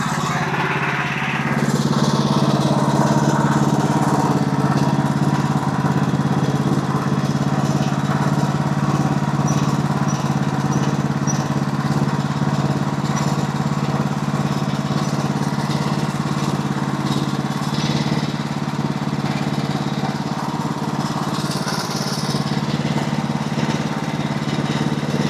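Sawmill cutting live edge boards from a log, a steady engine drone running loud and unbroken throughout, close by, with no talking.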